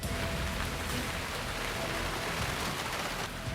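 Monsoon rain falls in a steady, even hiss, constant and moderately loud from start to finish.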